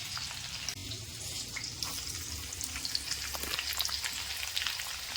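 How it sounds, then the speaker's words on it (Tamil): Ginger sautéing in a pan for a Tamil broad bean and lentil dish sizzles steadily and close, with light stirring scrapes throughout and no voices. "இஞ்சி போட்டு நல்லா வதக்கிடுங்க"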